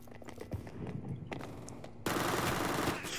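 Gunfire in the game CS:GO: scattered footsteps and distant shots give way to a sudden loud burst of sustained automatic fire close by, running to the end.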